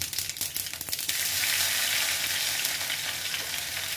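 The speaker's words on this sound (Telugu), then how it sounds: "సో ఆయిల్ వేడెక్కిన తర్వాత అందులో ఆవాలు," Mustard seeds and cumin hit hot oil in a kadai and set off a loud, steady sizzle with crackling pops. A few stirring clatters come at the start.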